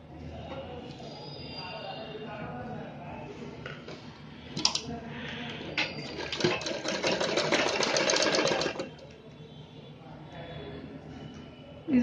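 A sewing machine stitches cloth for a cosmetic pouch, a short burst followed by a longer steady whirring run of rapid stitching in the middle, near and moderately loud, with someone talking before and after.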